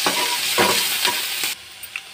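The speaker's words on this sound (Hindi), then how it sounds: "और अब हम इसमें ये ऐड कर देंगे हमारी बारीक कटी हुई प्याज, हरी मिर्च, और इसको अच्छे से फ्राई कर लेंगे।" Chopped onion and green chili fry in hot oil for an egg bhurji masala, a loud, dense sizzle broken by rhythmic stirring scrapes until the noise cuts off sharply near the end, leaving only faint clinks.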